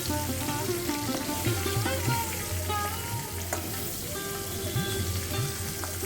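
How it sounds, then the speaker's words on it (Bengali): Pointed gourd (potol) pieces fry in oil in a kadai, giving a steady close sizzle with clinks and scrapes from turning and lifting the pieces. "যেগুলো মনে হচ্ছে একটু কাঁচা আছে সেগুলোকেও আমি একই রকমভাবে ভেজে ভেজে সাইড করে নিচ্ছি"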